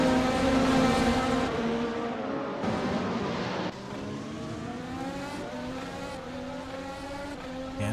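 Several race car engines scream together in a racing video game at Interlagos, with a Porsche Penske car in the pack, holding a loud, sustained drone whose pitch shifts as the cars shift gears.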